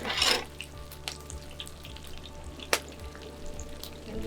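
Plantains fry in a pan with a soft, steady sizzle and occasional clicks of a utensil, close and quiet, with no talking.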